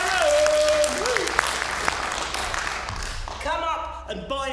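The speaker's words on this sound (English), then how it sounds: "Can we give Karen a round of applause?" Audience applause and a cheer for Karen at a live slam poetry show in New Zealand, clapping fading over a few seconds as a voice talks over it.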